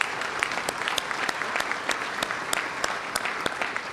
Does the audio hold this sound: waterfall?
no